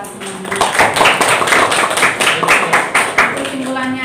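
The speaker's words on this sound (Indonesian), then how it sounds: "Tepuk tangan untuk kita semuanya." Students in a high school classroom clap together during a lesson study session, a dense burst of fairly loud hand claps lasting the whole moment, with voices mixed in.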